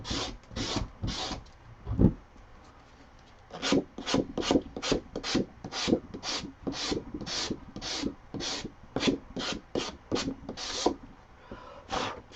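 Rhythmic back-and-forth sanding strokes on a wooden pantry organizer, about twenty quick rasping passes close by after a brief pause, steady and fairly loud with no talking.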